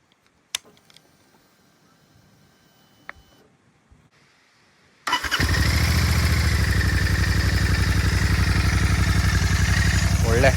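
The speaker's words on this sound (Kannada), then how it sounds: "ಬನ್ನಿ ಗಾಡಿ ಸ್ಟಾರ್ಟ್ ಮಾಡಿ ತೋರಿಸ್ತೀನಿ ಒಂದ್ಸರಿ." A Royal Enfield Continental GT650 twin with a Red Rooster Performance exhaust starts after a few faint clicks and quiet handling noises, then settles into a loud, steady, throbbing idle that fills the rest of the clip.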